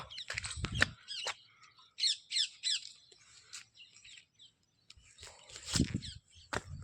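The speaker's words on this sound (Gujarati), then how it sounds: "પોપટ બોલે છે, અવાજ આવ્યો તમને કેટલો મસ્ત મજાનો?" Several sharp, raspy parrot squawks and chirps in short bursts, separated by quiet gaps, fairly close in a calm setting.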